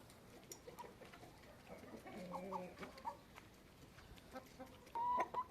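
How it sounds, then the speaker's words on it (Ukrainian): Faint clucking from a rooster in the distance, a few short calls with a louder one near the end, over quiet outdoor background. "півник Петя."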